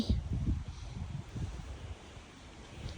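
Gusty wind rumbles against the microphone in uneven bursts, strongest at first and then settling into a softer, steady rush.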